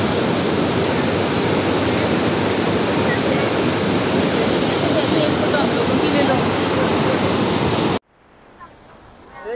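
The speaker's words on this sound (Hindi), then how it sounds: "धरती से गर्म पानी, वाजीवा कुदरत का अद्भुत नज़ारा" Hot spring water gushes from the ground at Manikaran Sahib in the mountains, a loud, steady roaring rush close by that cuts off abruptly near the end.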